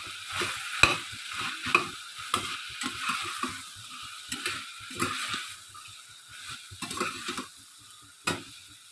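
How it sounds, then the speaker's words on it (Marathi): Vegetables for a veg pulao, seasoned with red chili powder, sizzle in a hot pan while being stirred and mixed, with rhythmic scraping strokes and a few sharper clacks over a continuous frying hiss. "आधी मिक्स करून घेऊ."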